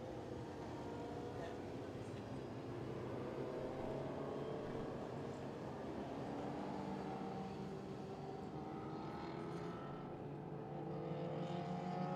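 Engine of a dwarf race car at a Midwest Modifieds Tour race, running again after a restart, drones steadily at a distance under ongoing commentary.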